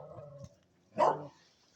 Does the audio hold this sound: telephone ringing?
no